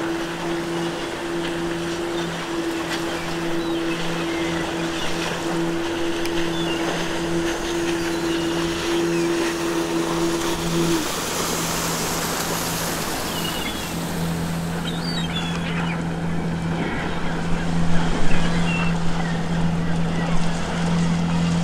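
An old boat in Nibiru: Age of Secrets, its engine droning steadily on open water, with waves and wind washing loudly around it and a sustained low hum that shifts midway.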